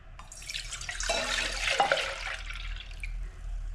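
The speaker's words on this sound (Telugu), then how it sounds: "పాలు మరగబెట్టినవి అవి పచ్చి పాలే పోయాలి." Raw packet milk pours into a pot for a milk cake, a soft steady splashing stream lasting a few seconds, faint and close with no talking.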